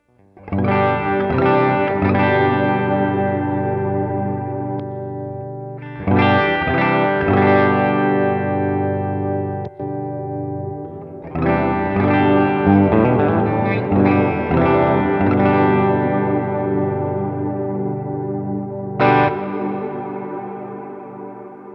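Electric guitar played straight into an amp through a modded Mini Universe effects pedal, sustained chords with chorus-like wobble and distortion, struck anew in several long phrases with brief gaps, loud and close.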